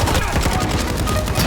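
Rapid automatic fire from a CR-56 AMAX assault rifle in Call of Duty, a dense, continuous stream of loud shots with no pauses, under some faint voice.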